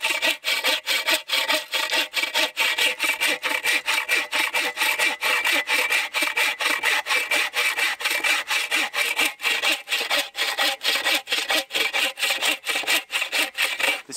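A 24-inch saw cutting through dense oak at a snowy winter camp, with loud, rapid, evenly paced back-and-forth rasping strokes up close that continue without pause and with no talk.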